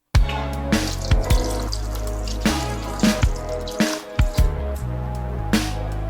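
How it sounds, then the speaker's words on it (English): Thick sauce dripping off a spatula during cooking, a series of wet, soft plops and squishy drips at an uneven pace, close and fairly loud, with no talking. "It will drip off the spatula, but you do have stuff sticking to the spatula."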